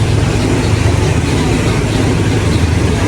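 Local train number 447 on the Surat Thani to Sungai Kolok line runs at a Thai station in the morning, a loud, dense, steady rumble of engine and wheels filling the whole stretch.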